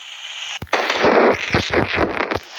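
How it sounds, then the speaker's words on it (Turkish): Cartoonish fireworks from the Piano Kids video game burst in a quick cluster of sharp pops and crackles after a brief whoosh, loud and without any talking. "havai fişek"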